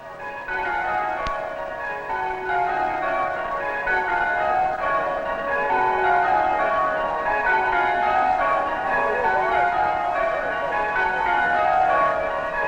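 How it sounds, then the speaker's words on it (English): Church bells of Emmanuel Episcopal Church in Delaware ring steadily with layered, sustained tones, a continuous full peal filling the whole span at even loudness with no talk. "When you hear the bells of Emmanuel Episcopal Church"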